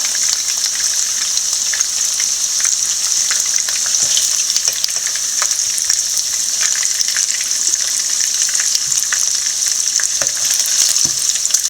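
Chicken pieces for chilli chicken fry in hot oil in a pan, producing a loud, unbroken sizzle peppered with constant crackles and pops from start to finish.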